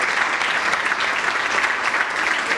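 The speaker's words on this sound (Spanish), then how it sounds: "El aplauso para la compañera." Crowd applause for a candidate at a Justicialist Party candidate presentation in Bragado, Argentina, dense, even clapping held at a steady, fairly loud level without talk.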